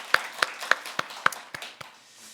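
Church congregation clapping in thanksgiving during a year-end Sunday service, a sparse run of about seven distinct, separate claps that grow slightly softer and fade out.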